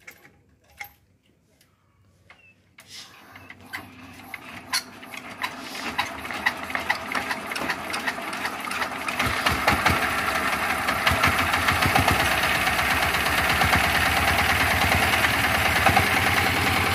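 A dompeng diesel engine generator rated at 10,000 watts starts up after a near-silent opening. It settles into a loud, close, continuous chugging hum with rapid knocking pulses that grows steadily stronger until the end.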